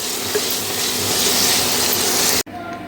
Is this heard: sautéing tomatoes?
yes